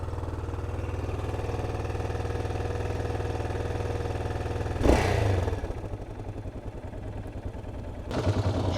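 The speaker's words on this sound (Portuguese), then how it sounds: "Por que essa moto está acelerada desse jeito?" A Yamaha Ténéré motorcycle engine runs at a steady raised idle with a stuck throttle cable, a continuous mid-pitched drone that surges briefly around the middle and again near the end, recorded close.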